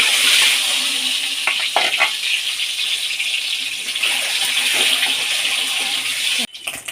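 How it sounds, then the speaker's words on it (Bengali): An egg coated with turmeric frying in hot oil in a pan, giving a steady broadband hiss and sizzle with a few brief crackles, near and continuous, cutting off abruptly at the end. "ডিমটা একটু ভেজে নেব।"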